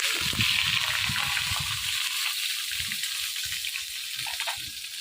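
Pointed gourd pieces drop into hot oil that held some water, setting off loud, steady sizzling and crackling spatter that runs the whole time with no talking.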